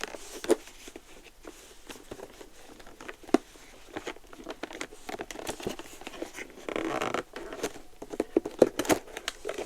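Scissors cut into the plastic packaging of an Addams Family Polly Pocket compact, producing close, irregular snips, crinkles and rustles with brief louder crackling bursts.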